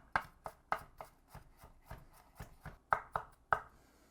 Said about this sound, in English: we'll give it a little rock chop over the top to get it a little smaller